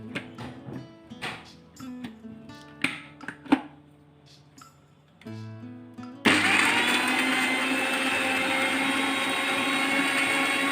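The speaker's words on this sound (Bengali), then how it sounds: "কুচানো শাকের সাথে এক এক করে কাঁচামরিচ, ধনেপাতা ও কাজু বাদাম দিয়ে ভালোভাবে ব্লেন্ড করে নিব।" A kitchen blender whirs loudly and steadily, grinding chopped spinach with green chilies, coriander leaves and cashews, starting after a few seconds of clinks and taps as the ingredients are added, then running alone at full power.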